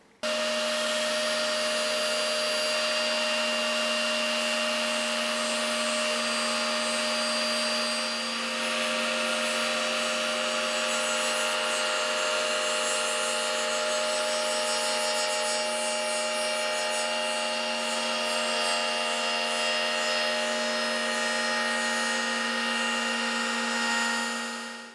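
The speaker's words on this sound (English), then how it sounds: "we should be able to angle the router down as we do, and we'll just go around the whole body and do that now" A wood router cuts a binding channel around a custom Les Paul guitar body, a loud steady high-pitched whine that runs unbroken for the whole stretch with no talk.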